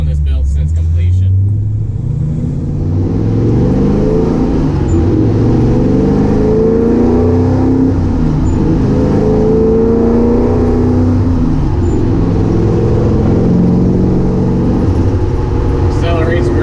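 A 1957 Chevrolet Sedan Delivery accelerating, its engine rising through loud, sweeping revs heard from inside the vehicle with a steady road roar underneath, and a voice speaking over it.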